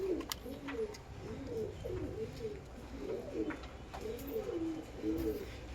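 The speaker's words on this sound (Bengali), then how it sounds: "এই যে আমার একটা মালওয়াই পায়রার বাচ্চা" Pigeons coo repeatedly in a loft among Malwai pigeon chicks, a series of low rolling calls in a loose rhythm, moderately close, with faint handling noise.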